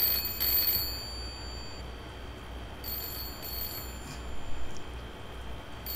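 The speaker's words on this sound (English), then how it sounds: "I'd like you to call the telephone in my bookshop, please." Telephone in a bookshop from a TV show, ringing in short bursts of bright bell trills with gaps between rings, fairly close and with no speech.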